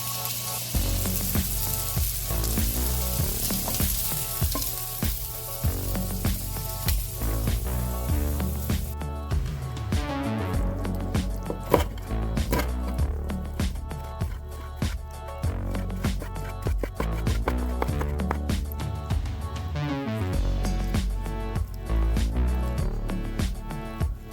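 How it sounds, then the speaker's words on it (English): Skirt or flank steak frying in melted butter in a pan; a loud, steady sizzle and crackle runs throughout, with sharp spattering pops, a brief louder hiss near the start, and occasional scraping clicks. "Cook 1 pound of skirt or flank steak. Cook 5 to 7 minutes on each side or until brown."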